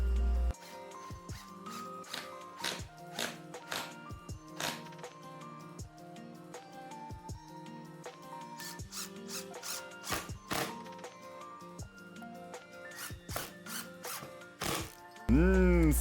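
Repeated short clicking and ratcheting bursts of screws being fastened, spaced irregularly over a quiet background with tonal hum.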